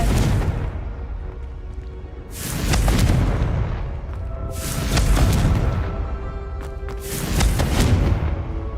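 Three fire-spell explosions from the video game Hogwarts Legacy go off a few seconds apart, each a loud, booming blast that rolls on with a rumbling tail.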